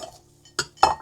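Two ceramic bowls knocked together as one is set onto the other while flowers are arranged, giving a short near clatter followed by a louder clink, with no one talking.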